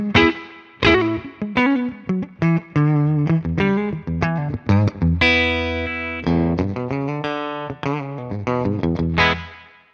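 An electric guitar runs through a Wampler Mini Faux Spring reverb pedal, playing loud, sustained chords and single-note phrases with a distorted edge and a trailing spring-style reverb wash, with no talking.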